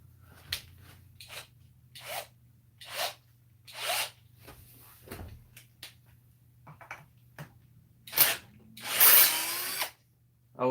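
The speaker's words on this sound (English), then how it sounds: "instead of using a wrench, that quick jerk on it that it does helps break that first bit loose, especially when it's rusty" An impact wrench works a rusty bolt loose in a series of short, sharp whirring bursts, roughly eight of them, separated by brief pauses, fairly close, with no voices heard.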